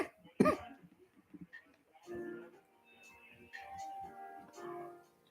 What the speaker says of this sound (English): or it's this cough.